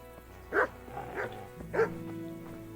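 Three short, distinct dog barks from a video game set in medieval Bohemia (Kingdom Come: Deliverance), evenly spaced over a low background hum, moderately close and clear.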